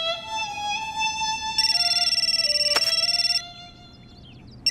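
An incoming call rings out on a mobile phone as a bright repeating electronic ringtone melody, close and clear, looping for a few seconds before cutting off.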